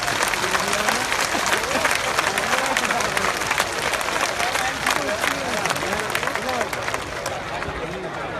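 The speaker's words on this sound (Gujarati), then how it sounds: "તાળીઓ પાડો, ખબર પડે." Rally crowd at a community assembly clapping steadily and loudly throughout, a dense, continuous wash of applause with crowd noise mixed in.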